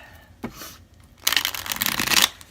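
A deck of tarot cards being shuffled by hand, a couple of soft flicks followed by a loud, rapid riffling burst lasting about a second, close up with no speech.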